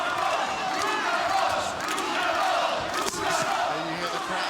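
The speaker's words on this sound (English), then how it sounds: "And you hear the crowd." A loud, continuous roar of British boxing fans cheering together in an arena during a Linares vs Campbell bout, a dense wall of crowd noise with swelling shouts that holds steady throughout.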